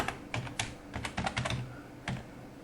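Code is typed on a computer keyboard in quick, uneven bursts of sharp key clicks, close and fairly quiet, with short pauses between clusters and no talking.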